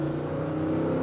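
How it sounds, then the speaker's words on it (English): Smooth V8 engine of a 2022 Lexus GX 460 SUV building under throttle, a steady low hum with a tonal whine, heard alone and fairly close. "you can start hearing the engine note"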